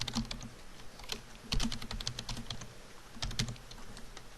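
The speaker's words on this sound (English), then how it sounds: "Go ahead and type in the city mailing address" Fingers type on a computer keyboard in quick, uneven bursts of sharp clicks, close and clear, with brief pauses between runs of keystrokes.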